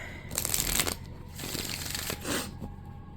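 Tarot cards are shuffled close by in a couple of quick riffling bursts, crisp papery flutters separated by a brief pause, with no voices.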